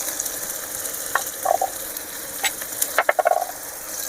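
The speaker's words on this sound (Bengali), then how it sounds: "মশলাটা দিয়ে আমি ভালো করে ভেজে নেব" Ground spices (cumin, coriander, dried chilli and Kashmiri chilli powder) with salt fry in hot oil in a pan while being stirred, giving a steady sizzle with several short scraping bursts.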